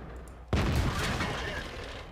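A tank cannon fires in World of Tanks: one abrupt, loud boom followed by a sustained rumbling tail, with no voice over it.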